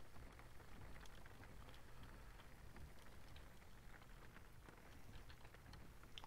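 Heavy rain drums steadily on the roof of a car in the driving game Jalopy, a dense continuous hiss with scattered drop impacts and low rumble, loud and unbroken with no talk.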